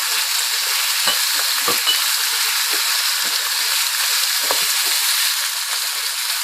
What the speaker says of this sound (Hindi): अब ये फ्राई हो चुकी है शिमला मिर्च